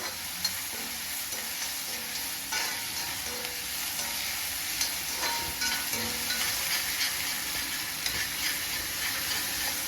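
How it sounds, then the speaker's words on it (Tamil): Onions sautéing on a high flame for vegetable cutlets, a constant close sizzle broken by scraping stirs of a spoon, with no talking. "ஃப்ளேம் ஹைலியே வச்சுக்கோங்க. வெங்காயம் வதக்கணும்."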